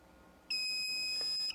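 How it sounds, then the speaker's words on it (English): A Benzing pigeon-racing clock gives a single sustained electronic beep, high and piercing, lasting about a second before cutting off against a quiet background. "pressing and holding the green button until it beeps"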